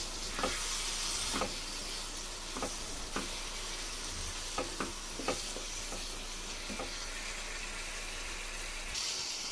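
Tomato pickle cooking in a pan, mixed with a spatula in a series of short scraping strokes over a continuous soft sizzle, close and moderately loud.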